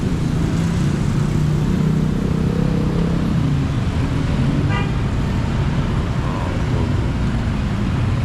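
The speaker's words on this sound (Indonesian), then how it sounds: "Oke, jadi ini adalah bus stop Pekanbaru." Steady city traffic at a roadside bus stop in Pekanbaru, with passing cars and buses rumbling close by and one short horn toot partway through.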